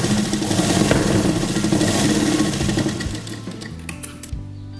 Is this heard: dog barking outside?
no